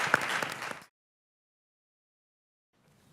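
Audience applause at an annual startup pitch event, a brief burst of clapping in a hall that stops abruptly, followed by near silence and a faint low rumble.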